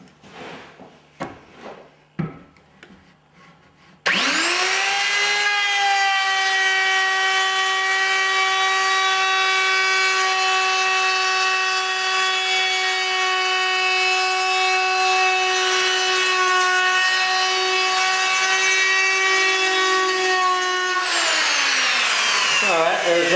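A power router cuts wood for a loft ladder, spinning up into a loud, steady high-pitched whine that holds for about seventeen seconds and then winds down, preceded by a few handling knocks.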